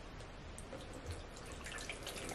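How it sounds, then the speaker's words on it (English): Half a cup of water poured from a measuring cup into a mixing bowl, a faint, soft trickle and splash lasting a couple of seconds with no talking. "I'm just going to pour it right in."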